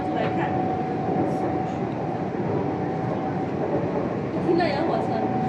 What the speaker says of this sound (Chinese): 听到有火车就可以看火车